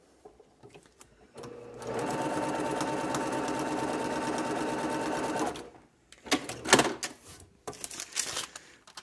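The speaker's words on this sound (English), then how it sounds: "So let me put this one in the machine and sew the seam." A sewing machine stitches a fabric seam in a steady, fast mechanical run of about four seconds, close by, followed by fabric handling and rustling noises.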